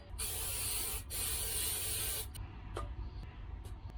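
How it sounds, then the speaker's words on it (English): Spray butter hisses from a can into a cooking pan in two long, loud bursts with a short break between, then quieter rustling and small clicks follow. "Canola oil blend, spray butter, and our pan."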